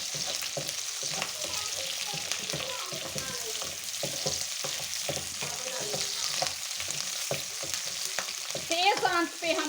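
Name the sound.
vegetables and capsicum stir-fried on high heat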